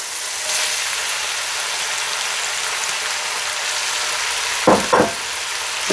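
Onions, carrot and celery frying with bacon in a pan on medium heat, giving a steady close sizzle and crackle throughout, with a couple of brief louder stirring scrapes near the end.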